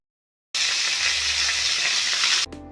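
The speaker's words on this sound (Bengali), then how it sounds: "টমেটোগুলোকে ওই কড়াইয়ের মধ্যে দিয়ে দিতে হবে" Tomatoes hit a hot wok with crushed ginger and salt, bursting into a loud, close, continuous sizzle that cuts off abruptly after about two seconds; no voices.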